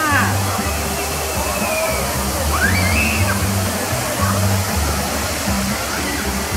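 Splashing and rushing water at Disney's Blizzard Beach water park in Florida, wave pool and slides producing a loud, continuous wash with a busy crowd murmuring underneath.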